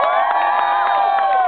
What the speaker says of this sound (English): massive cheer for our trebuchet master makes that possible.